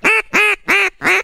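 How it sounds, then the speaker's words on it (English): A mallard hen quacks four times in a steady, evenly spaced series, loud and close with short gaps between calls. "She'll quack."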